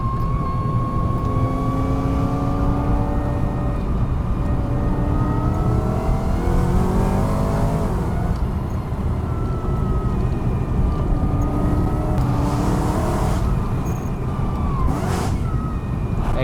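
A supercharged BMW E90 M3 fitted with a Harrop charger accelerates hard, its engine note rising steadily through the gears with a continuous loud, close drone and climbing harmonics, no talk over it.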